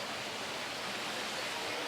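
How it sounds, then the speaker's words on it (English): Water rushing along a stream through a ravine beside the town of Chefchaouen, Morocco, a steady, dense hiss of flowing water with no pauses or voices. "this is more of a ravine that runs through kind of along the side of the town."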